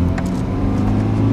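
Car lapping the Nurburgring circuit, its engine a steady loud drone heard from inside the cabin, without any talk.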